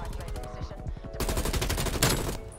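Rapid automatic fire from an XM4 rifle in Call of Duty Cold War, close and loud repeated shots in quick even bursts, with a brief pause early on before the firing resumes.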